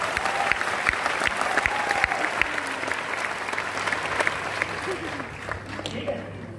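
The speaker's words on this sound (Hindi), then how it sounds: "एक जोरदार ताली होनी चाहिए आप सभी को" Strong audience applause at a business seminar, a dense continuous roar of clapping hands that holds for several seconds before tapering off, with voices mixed faintly underneath.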